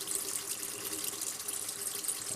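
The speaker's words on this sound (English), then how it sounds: "we're just running water over it" Tap water runs steadily over a stove part to rinse off Dawn dish soap, a constant hissing splash with no voices.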